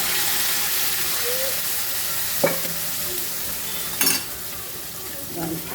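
Cooked dal with leafy greens (aakukura pappu) hisses steadily in a hot tempering pan, a broad close sizzle with a few sharp clinks of a spoon against the pot.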